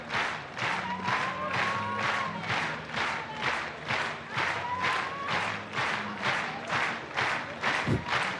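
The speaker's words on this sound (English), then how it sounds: "Crowd is still clapping." A big crowd at the 2022 European Climbing Championship men's lead semi-final in Munich claps in steady unison. The rhythmic beat runs on without a break, with cheering and crowd noise underneath.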